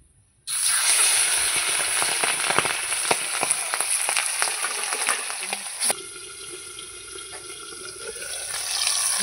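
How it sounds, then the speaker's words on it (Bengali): Pabda fish lands in well-heated oil and fries with a loud, steady sizzle and crackle close by. The hiss starts abruptly after a short silence and continues throughout, easing slightly partway through, with no talking. "এবার মাছটা দিয়ে দেবো। তেল আমার ভালো করে গরম হয়ে গেছে"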